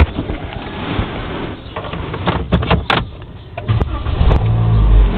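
A 2025 Toyota Avanza engine runs nearby with a rough, uneven rumble, punctuated by a few sharp clicks and knocks.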